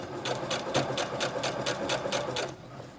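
Sewing machine stitching fabric with a zigzag foot, a fast, even rhythmic clatter of needle strokes running steadily close up, then easing at the end.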